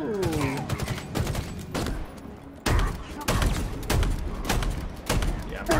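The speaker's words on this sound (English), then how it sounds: "Shotgun slug rounds," Halo shotgun firing slug rounds on Legendary, a string of heavy booming shots at irregular intervals amid combat noise, with voices briefly audible.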